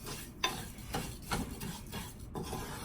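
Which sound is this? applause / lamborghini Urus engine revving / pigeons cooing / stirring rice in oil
stirring rice in oil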